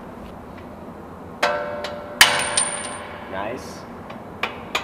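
Several sharp metallic mallet strikes ring out as a mallet hammers a Subaru WRX's suspension loose to remove the coilovers. The strikes come spaced a second or so apart in a workshop, and a voice speaks briefly.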